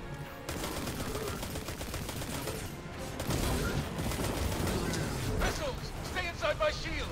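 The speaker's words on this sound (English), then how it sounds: "Run over to my shield and let me watch you die from the missiles." Missiles exploding in Destiny 2 mix with constant gunfire into a dense, loud battle roar of blasts and crackling that runs the whole time, with a few sharper bursts near the end and someone talking over it.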